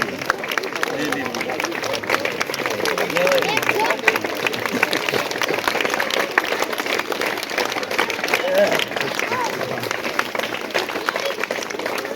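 Applause from a crowd at a Republic Day event where army veterans hand out shoes and jerseys to children, with dense clapping running steadily throughout, mixed with crowd chatter and voices.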